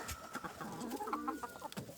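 Clucking from a small flock of chickens kept in a home garden, including a car-hen breed, with several overlapping calls close by and no talk.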